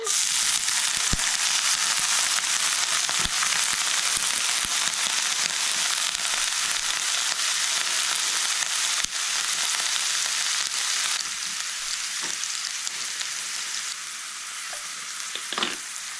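Steady, loud sizzling of corned beef hash made from blended corned beef and diced raw potatoes frying in a pan, close up with occasional light clicks and stirring, no talk.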